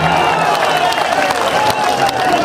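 A crowd at a Navjot Singh Sidhu political rally claps and cheers continuously, a loud dense wash of applause with voices mixed in.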